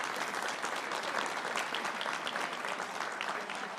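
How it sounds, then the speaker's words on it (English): An audience at a ceremonial signing of a Boston liquor licenses bill claps steadily, a full and even round of applause that continues for the whole clip. "Let's give them another round of applause."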